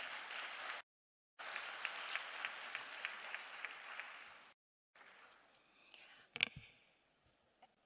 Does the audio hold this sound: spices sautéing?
no